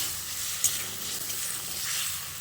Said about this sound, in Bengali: এইভাবে জল দিয়ে দিয়ে মশলাটাকে আলু ও টমেটোর সঙ্গে কষিয়ে নিতে হবে